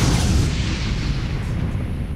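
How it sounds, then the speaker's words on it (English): A dramatized oxygen tank explosion aboard Apollo 13 as a dense, loud, rumbling roar. It fills the whole clip with no pause and fades only slightly toward the end. "When the crew switched on the fans, there was a spark and the tank exploded."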